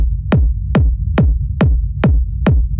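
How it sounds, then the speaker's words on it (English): Techno rumble bass locked to a kick drum: six evenly spaced, punchy kicks, each trailed by a deep sustained rumble that fills the low end between hits, loud and alone with no voices. "So techno rumble 1 sounds like this."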